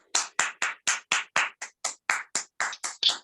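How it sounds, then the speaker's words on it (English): About a dozen evenly spaced hand claps, crisp and close, in a steady rhythm rather than a crowd's applause. "Give him a huge round of applause."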